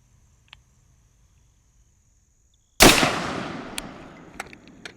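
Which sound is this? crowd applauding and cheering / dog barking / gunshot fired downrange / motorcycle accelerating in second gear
gunshot fired downrange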